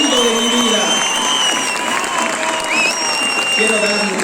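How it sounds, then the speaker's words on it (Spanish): A large crowd applauds and cheers at a political rally in Quito. The clapping is dense and sustained throughout, with whistles and shouts mixed in and a voice talking under the noise. "Quiero otro fuerte y gran aplauso para quienes van a representar a las juntas parroquiales rurales"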